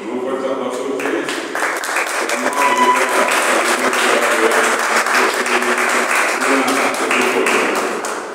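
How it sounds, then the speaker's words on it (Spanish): Applause from an audience at a poetry anthology launch, a dense burst of clapping that starts near and loud and carries on steadily for about eight seconds, with voices mixed in. "con un fuerte aplauso a ustedes"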